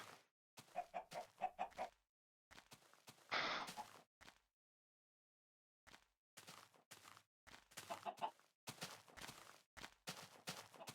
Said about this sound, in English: Waiting for chickens to lay eggs.